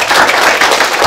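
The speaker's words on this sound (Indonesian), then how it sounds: "Berikan tepuk tangan." Guests clap together at a wedding ceremony, a dense, steady burst of applause filling the room for about a second, loud and close with no speech over it.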